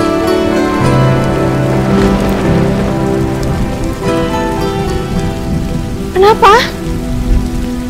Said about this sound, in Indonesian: Ini hujannya deras banget.